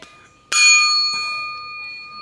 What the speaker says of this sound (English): You hear that ringing?